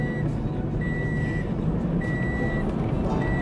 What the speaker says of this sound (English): my car's beeping to put the seatbelt on